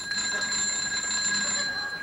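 A bell rings continuously and steadily at close range, its sustained ringing tone unbroken for the whole moment, with no voices over it.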